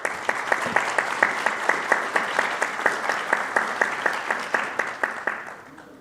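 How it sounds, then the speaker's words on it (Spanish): Steady audience applause at an academic law talk on artificial intelligence and ethics, loud and close, with rhythmic individual claps standing out, fading out near the end. "Un fuerte aplauso."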